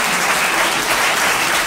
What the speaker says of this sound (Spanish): No entiendo el aplauso, no lo entiendo